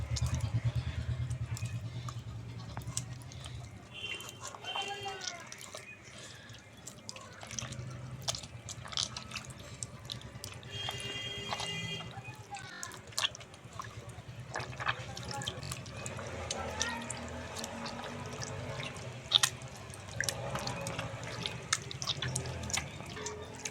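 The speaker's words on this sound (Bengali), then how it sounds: "এবার জল দিয়ে ময়দাটাকে আমি মেখে মেখে ময়দার মধ্যে যে ফাইবারটা রয়েছে সেই ফাইবারটা বার করে নেব।" Flour dough is washed and kneaded with water: continuous faint wet sloshing, squelching and dripping, with small clinks of a bowl throughout.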